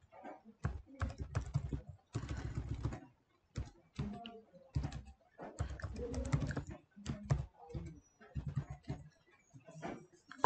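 Fingers type a password on a computer keyboard in quick bursts of close, crisp key clicks separated by short pauses, quiet and alone, with no one talking.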